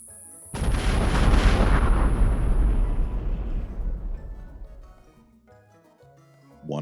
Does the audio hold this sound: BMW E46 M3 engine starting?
no